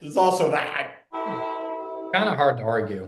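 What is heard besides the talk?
train passing, horn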